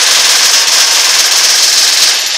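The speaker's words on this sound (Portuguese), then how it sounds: "Tão atirando aqui que eu não tô vendo." Rapid continuous gunfire in the Free Fire mobile shooter game, a loud dense rattling burst that holds steady without pauses and with no talk over it.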